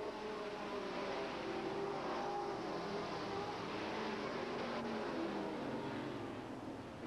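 Sportsman race cars thunder around Hales Corners Speedway, a continuous roar of several engines racing together, heard from a distance with no talk over it.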